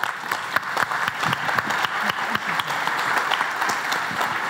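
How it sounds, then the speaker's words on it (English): Conference audience at jPrime in Plovdiv breaking into sustained applause, many hands clapping densely and evenly for several seconds. "So big applause to him, please."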